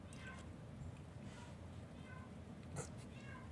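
A small pet cat meows a few times, faint and somewhat distant in a quiet room, with short rising calls spaced apart and a person's soft talking around them.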